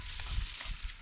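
A Korean stir fry sizzles in a pan as it is stirred, with a brief burst of frying crackle and scraping bumps from the utensil.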